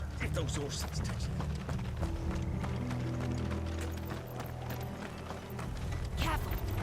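Horse hooves clip-clop in the Final Fantasy XVI video game, a steady run of sharp hoof strikes over a low droning game soundtrack and ambience, with voices present.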